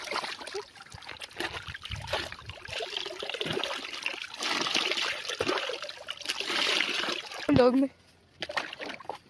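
Water trickles and splashes over a German shepherd's coat during a bath, a steady pouring and dribbling sound while someone talks over it throughout.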